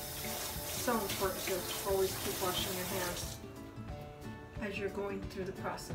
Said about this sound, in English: I'm gonna go ahead and wash my hands one more time.